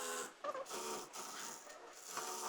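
A sewing machine runs a side stitch on palazzo fabric, giving a steady, fast mechanical whirr with a few short pauses, fairly quiet and close, with no talk.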